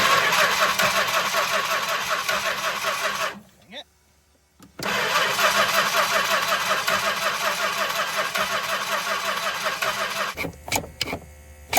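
A 1964 Chrysler Newport engine cranks with a rapid rhythmic churning, stops briefly, cranks again, then cuts off before a few final clicks, loud and close, with a voice speaking during the attempts.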